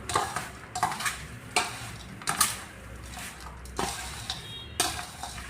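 Poha chivda being tossed with powdered sugar in a pan, giving intermittent dry scraping and clinking strokes of a spoon against metal, close and moderately loud, with short pauses between each mixing pass.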